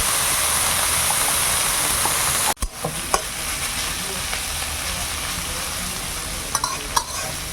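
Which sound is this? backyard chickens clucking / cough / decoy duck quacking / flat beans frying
flat beans frying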